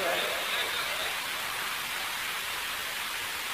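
Steady rain falls outdoors during a religious sermon, a constant, even hiss with no breaks that fills the whole stretch at moderate level.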